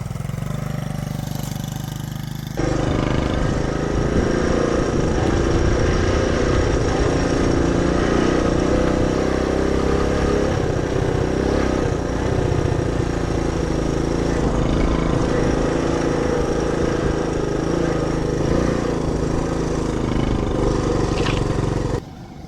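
A 1967 Honda CT-90 trail motorcycle engine runs steadily and loudly for about twenty seconds after a brief quieter start, with throttle given gently as the bike is ridden slowly in gear.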